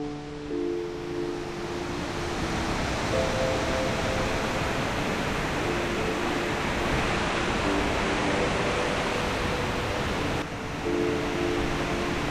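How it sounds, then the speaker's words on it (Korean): An Indonesian waterfall near Malang roars as a steady, loud, broadband rush of falling water that continues unbroken throughout, with no voices. "인도네시아에서 가장 멋있는 폭포가 아닐까."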